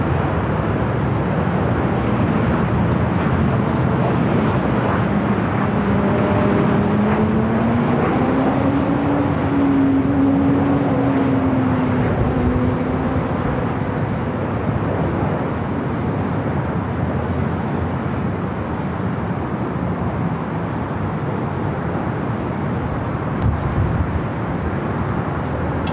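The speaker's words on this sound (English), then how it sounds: "Delta flight coming in from SFO, 737-800, flight 2319." Delta Boeing 737-800 jet at LAX arriving from SFO, a broad continuous engine roar with a slowly shifting whine, steady and fairly loud throughout, with no talk.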